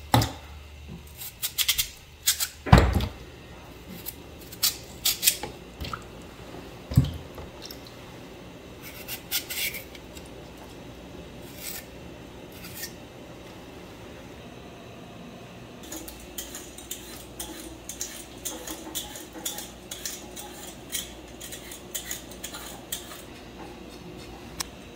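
A knife cuts vegetables, including eggplant, while food is prepared, producing close, sparse clicks and knocks against a board or dish, with a few sharper taps early on and quieter scraping later, and no voices.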